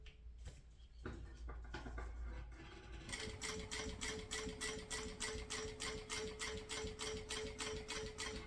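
A sewing machine stitches a small cat-themed wallet, starting with a few scattered clicks and handling sounds, then running in a fast, even, rhythmic chatter of stitches, close and fairly quiet, with no talking.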